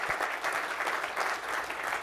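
Audience applause at an evening presentation about Jewish resistance and the musicians of Terezin, a dense, steady patter of many hands clapping that holds at an even level throughout.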